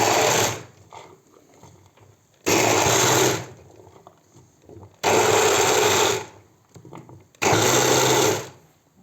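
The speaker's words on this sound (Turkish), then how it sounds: "Narlarımı şimdi blenderdan geçireceğim arkadaşlar." A blender purees pomegranate seeds, whirring loudly in four separate bursts of about a second each, with quiet gaps and faint kitchen clatter between them.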